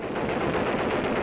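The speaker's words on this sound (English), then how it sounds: "Fighter planes sweep in with cannon blazing, stopping enemy gun crews" Fighter planes firing cannon in a 1943 strafing attack on enemy gun crews: a dense, continuous roar of rapid shots with no pauses, loud and close throughout.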